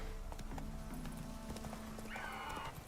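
Roach, a horse in The Witcher 3, clip-clops in a rhythmic gallop and then gives a brief whinny near the end, quiet and in the foreground.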